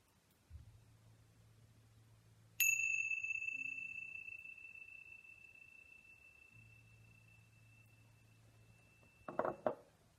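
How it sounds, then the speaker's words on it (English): A single bell is struck once and rings with a long, clear sustained tone that slowly fades over several seconds, alone over a low background hum, with a brief rustle near the end. "I feel the need to do the bell again."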